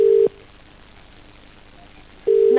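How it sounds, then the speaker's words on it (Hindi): Ringback tone on an outgoing phone call to a municipal commissioner: two loud steady beeps about two seconds apart, with a quiet gap between them. "रिंग जा रही है, देखते हैं उनसे संपर्क हो पाता है कि नहीं हो पाता है"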